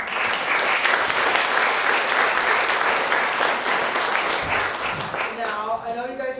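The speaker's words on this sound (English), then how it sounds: "Give yourselves a round of applause." A theatre audience at the Waterville Opera House applauding, a dense, loud, continuous wash of clapping that fills the room, with a voice starting to talk near the end as it fades.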